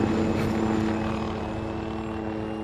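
Helicopter in Arma Antistasi with a loud, steady rotor and engine drone that holds a constant low hum and thrum throughout, close and unbroken.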